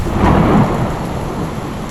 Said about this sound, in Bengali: তখনই শুরু হলো তুমুল ঝড় আর বৃষ্টি সঙ্গে বজ্রপাত